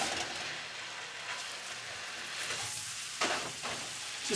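Soft, steady sizzle of beef frying in a pan with butter and garlic, close but quiet, with a few brief scraping stirs near the end and no talk.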